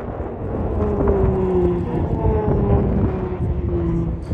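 A PC-21 training aircraft performing in an air display at Temora Aviation Museum, its engine roaring loud and steady with a shifting drone, under a commentator's voice.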